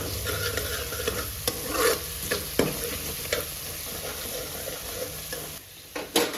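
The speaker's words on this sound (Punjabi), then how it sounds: "ਆਪਣਾ ਮਸਾਲਾ ਜਿਹੜਾ ਭੁੱਜ ਰਿਹਾ ਤਾਂ ਆਪਾਂ ਇਹਦੇ ਵਿੱਚ ਅਜਵਾਇਣ ਪਾਵਾਂਗੇ ਥੋੜੀ ਜਿਹੀ" Spice masala with ajwain frying in a pan for a dhaba-style carrot and pea curry, with a continuous soft sizzle broken by repeated scraping stirs of a spoon, close and moderately quiet.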